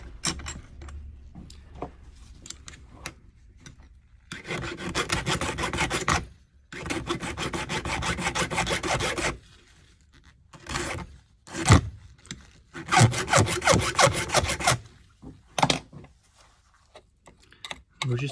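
A metal file rasping down a hand-cut lock key, working in long repeated bursts of scraping strokes with short pauses between them, close and fairly loud.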